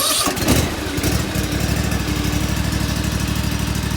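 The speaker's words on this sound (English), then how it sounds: "I've already started up, moved it out of the shed, so it should fire right up." An Ariens Apex 52 zero-turn mower, a 2020 model, starts up with a brief cranking burst, then settles into a steady, loud low idle with an even rhythmic engine pulse.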